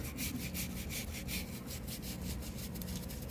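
Scrubbing tile grout loosened with vinegar, a steady rhythmic brushing rasp repeating close up, loud and continuous with no talk.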